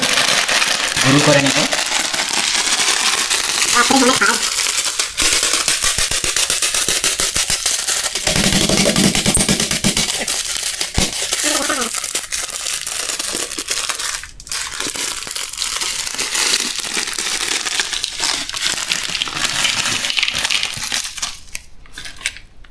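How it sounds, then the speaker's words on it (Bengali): Koka instant noodles crushed by hand for jhal muri, a dense, continuous crackling and crunching that runs loud for about twenty seconds with a few short pauses, with no talk over it. "এটাকে একটু আমরা গুঁড়ো করে নেব"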